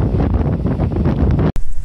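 Strong wind buffeting the microphone at Tanjung Ringgit, a seaside cape with high waves, a loud roaring rumble that cuts out abruptly for a moment before gusting back.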